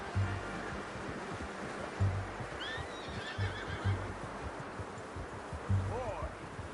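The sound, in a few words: horse neighing in video game Red Dead Redemption 2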